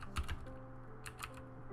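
Typing a password on a computer keyboard during router configuration, a few quiet, close key taps in short clusters.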